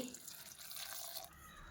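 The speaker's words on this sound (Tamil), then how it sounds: "தேவையான அளவு தண்ணி ஊற்றி" Water pours into a mixer grinder jar in a soft, continuous trickle for under two seconds, quiet and close.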